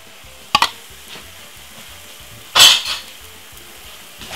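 Sardine frying over medium heat in a pan gives a soft steady sizzle, broken by two sharp scraping stirs of a utensil, one brief and one longer, heard close with no speech.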